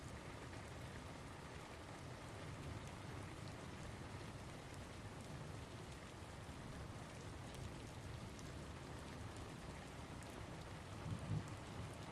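Steady rain falls continuously without a break, a dense even hiss with a low rumble beneath it, like a downpour heard from indoors at night. A faint low thunder roll comes and goes, and no voices are heard.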